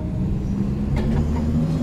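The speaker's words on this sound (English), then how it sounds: "it sounds like a train's coming" A London Underground Bakerloo Line train in Train Sim World 2 pulls into the station as a steady low rumble, with faint brief higher tones near the middle.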